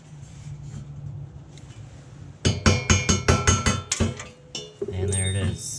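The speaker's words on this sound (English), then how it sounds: "so we'll take a punch and we'll knock that out" A hammer strikes a metal punch to drive out a snow blower shear pin, about ten sharp metallic clinks in quick rhythm, loud and close, after a quiet stretch and followed by a rattling scrape.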